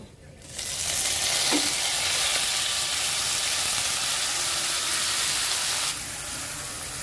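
A loud hiss erupts as apple hits a hot pan, then a strong steady sizzle holds for several seconds before cutting off abruptly.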